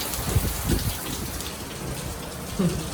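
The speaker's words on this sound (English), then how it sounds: "there's so much rain, so there's so much noise" Heavy rain pours in a steady, fairly soft hiss, with a few brief low thumps or murmurs rising above the downpour.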